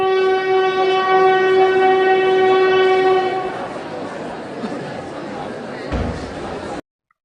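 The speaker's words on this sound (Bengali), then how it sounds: "এই ট্রেন এলো বলে" A cartoon train arriving sounds a long, loud horn blast for about three seconds, then rolls on with a rumbling rattle that ends abruptly.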